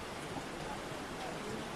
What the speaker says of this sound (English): whenever the rains do come down, it will always be a challenge